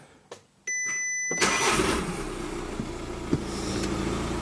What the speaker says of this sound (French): Donc on va démarrer la voiture.